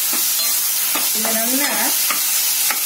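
Tomatoes sauté in a pan for paneer palak with a loud, bright sizzle, broken by repeated spoon scrapes and a brief tonal squeak as they are stirred close up.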